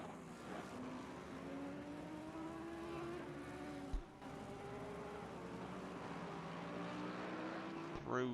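Race cars lapping the Nürburgring in an endurance racing video game, a steady drone of several engines rising in pitch together, with a brief thump near the middle and commentary running over the top.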